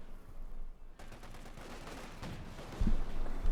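Greyhound armored cars in Company of Heroes 2 fire in sustained bursts, a dense rattling fusillade of gunfire with a few heavier thumps near the end, loud and continuous.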